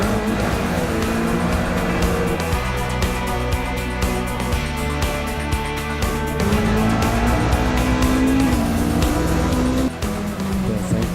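A rally car races fast along a mountain road on the Côte d'Azur, its engine revving hard and close throughout, with rising and falling pitch as it shifts gears and tires squeal.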